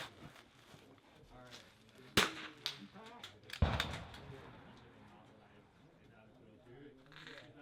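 Two sharp .22 rimfire rifle shots crack out at an outdoor shooting match, one about midway and another a second and a half later, with people talking throughout.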